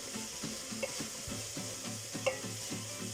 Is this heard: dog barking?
no